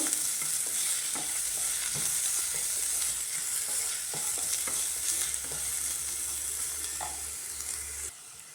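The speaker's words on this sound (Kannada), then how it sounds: "ಒಂದು ಈರುಳ್ಳಿ ಹಾಕ್ಕೊಳ್ತಾ ಇದ್ದೀನಿ. ಈರುಳ್ಳಿ ಚೆನ್ನಾಗಿ ಫ್ರೈ ಆಗಲಿ." Chopped onion frying in a pan, a continuous close hiss and sizzle with the scrape of a spatula stirring through it, and no talking.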